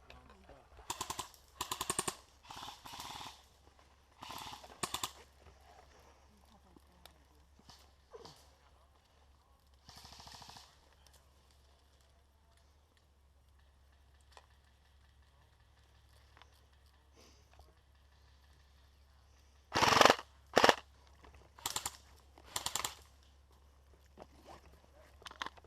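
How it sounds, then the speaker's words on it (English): Airsoft guns fire at the Ground Zero Airsoft field in scattered sharp bursts, a cluster early on, another around the middle and a loud volley near the end, with quiet stretches between. "Guys, start shooting up there."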